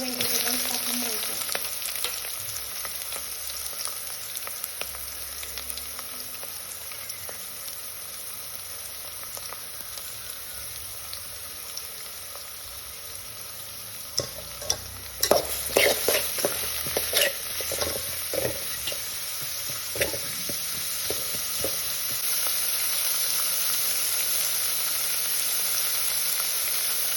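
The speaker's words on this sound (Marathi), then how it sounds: "तर आता तेल तापले त्याच्यामध्ये मिरची आणि सर्व व्हेजिटेबल्स टाकून घ्यायचे." Chili and mixed vegetables sizzle steadily in hot oil for fried rice, a continuous bright frying hiss with a burst of sharper crackles and stirring clatter partway through, no voices.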